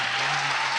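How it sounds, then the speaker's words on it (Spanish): Audience applause at a live radio club session before a concert, a dense, steady wash of clapping held at even loudness for under a second, with no voices standing out. "Yo un aplauso para Alex y para Javier"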